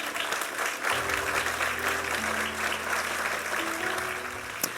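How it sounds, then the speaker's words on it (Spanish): A church congregation applauds continuously, a dense wash of clapping with a sustained low musical drone or organ tones running beneath it and a brief sharp accent at the end. "Dale un aplauso al Señor."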